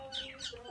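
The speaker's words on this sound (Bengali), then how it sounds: "ওই যে মুরগি" A chicken clucks in a brief, close burst of a few rising and falling calls, heard alone at moderate volume.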